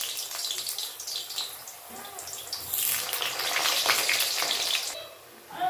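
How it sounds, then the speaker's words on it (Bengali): Potatoes dropped into hot oil give a close, loud sizzle and crackle that swells into a dense spattering roar, then eases off near the end. "এবার দিয়ে দিচ্ছি আলুগুলো লাল করে ভাজতে"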